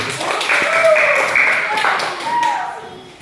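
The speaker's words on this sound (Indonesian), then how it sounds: "tepuk tangan semuanya." A classroom group clapping hands together after a pupil answers, a brief burst of applause with a teacher's voice over it.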